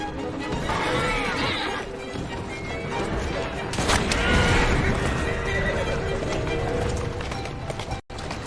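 Carriage horses in Assassin's Creed Syndicate neigh and whinny amid hoofbeats and crashing debris during a chase, loud and busy throughout, with voices talking over the action.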